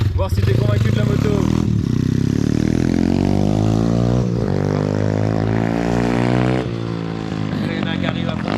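A YCF pit bike motorcycle engine revs hard and close, its pitch sweeping up and down through several long climbs over the full stretch, loud and continuous with a brief dip near the end.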